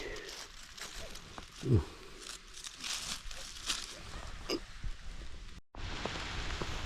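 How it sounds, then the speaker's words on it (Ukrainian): Soft, steady patter of light rain on surfaces, with a few nearby rustles and brief bumps, fairly quiet overall. "Почався дощ."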